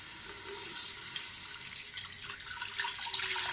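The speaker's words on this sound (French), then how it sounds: "Et là, vous allez rajouter de l'eau." Water poured into simmering meatball sauce, a steady close hiss and splash that keeps running with small bubbling fluctuations and no voices.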